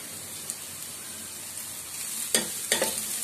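Cabbage, capsicum and onion sautéing in a pan for vegetable rice, a constant crackling sizzle broken by two louder bursts of stirring near the end, close and without talk.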